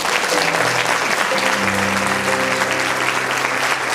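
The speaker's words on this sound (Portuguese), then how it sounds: "Aplauda ao Senhor." Steady congregation applause fills a church anniversary service, dense and continuous throughout, with a held organ or keyboard chord sounding underneath the clapping.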